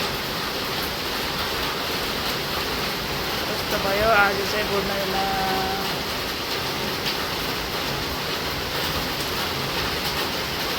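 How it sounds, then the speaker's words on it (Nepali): Steady rain with strong gusting wind at home on a stormy day, a dense continuous wash of noise close around, with someone briefly speaking over it. "पानी सँगसँगै हावाहुरी पनि चलिरहेछ"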